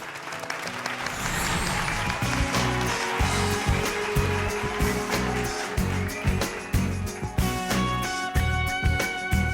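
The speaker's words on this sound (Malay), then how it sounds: "kita bagi tepukan gemuruh untuk Puan Siti" A studio audience at a hair care television show bursts into dense, sustained applause that stays loud and continuous throughout, with cheering rising over the clapping.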